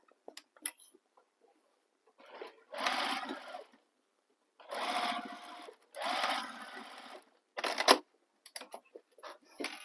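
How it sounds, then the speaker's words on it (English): A sewing machine stitches a fabric bag in several short whirring bursts separated by pauses, with small clicks and handling noises between runs, close and fairly quiet. "And then stitch this all the way across"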